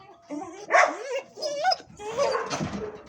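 Several young guard dogs barking and yelping close by in quick, overlapping bursts, mixed with whiny, squealing tones.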